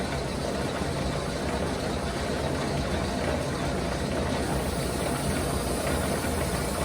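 A lathe set up for dead centre grinding runs at about 475 RPM, giving a continuous, fairly quiet mechanical hum and rumble with steady vibration and no talking.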